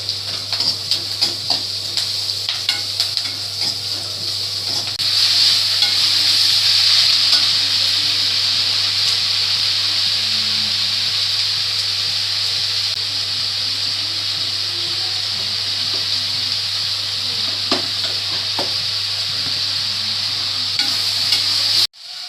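Two onions fry in a pan with a steady, close sizzle that swells slightly partway through, joined by occasional scrapes and clinks of stirring; no one speaks.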